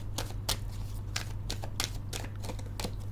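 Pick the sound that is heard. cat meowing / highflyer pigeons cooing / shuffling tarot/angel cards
shuffling tarot/angel cards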